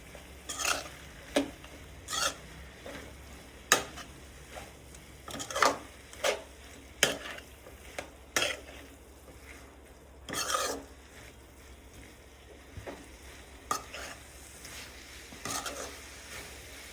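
Chicken gravy being stirred in a pan, a spoon scraping and knocking at an irregular pace of sharp, close strokes over a faint bubbling simmer, no voices.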